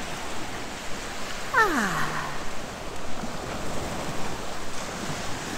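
Gentle water laps against the edge of a quiet beach at Blackpool, a soft continuous wash with mild wind noise on the microphone. Partway through, a brief falling whistle-like cry passes, and a person gives one short exclamation.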